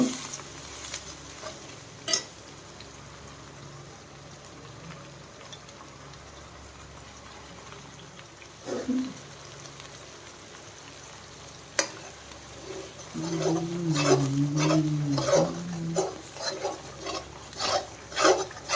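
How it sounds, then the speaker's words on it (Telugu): A mixture of onion, green chilli and gongura leaves for Andhra-style curry is stirred in a pan, with sporadic scraping and soft sizzling that grows busier and more frequent toward the end. "చూసారా మిశ్రమం ఎంత బాగా కలుస్తుందో అలా కలాలి నీట్గా"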